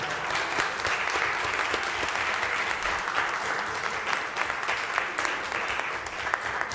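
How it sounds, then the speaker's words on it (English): Sustained applause from an audience at a school board meeting honoring students, steady dense clapping throughout without speech. "Let's give our students another round of applause"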